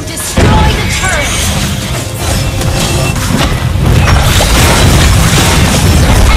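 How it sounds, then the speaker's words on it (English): A turret crumbling in the mobile game Mobile Legends, a heavy booming crash followed by sustained rumbling destruction and game effects, loud and close. "Your team destroyed the turret."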